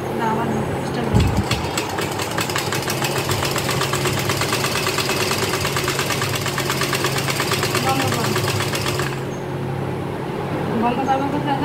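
A sewing machine stitches pyjama fabric with a steady, rapid mechanical whirr that runs for about eight seconds and then stops, with voices heard around it.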